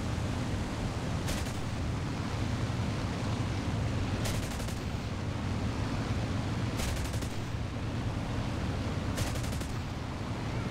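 Aircraft guns fire in War Thunder from an I-225 fighter, in four short bursts spaced a couple of seconds apart over a steady, loud engine drone.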